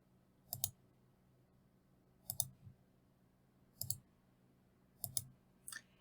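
A computer mouse clicking while dragging vertices in Vectorworks software: four crisp, close double clicks spaced about a second and a half apart, with a lighter click at the end, over a quiet hum.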